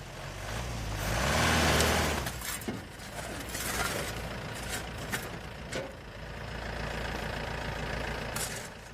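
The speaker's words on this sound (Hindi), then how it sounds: "पर रेतीले किनारे जैसे इन वजनी गाड़ियों की ताकत का इम्तिहान ले रहे हैं।" Heavy loaded vehicles strain across a sandy river bank, their engines a low rumbling drone that swells and eases, with occasional knocks and clunks at moderate distance.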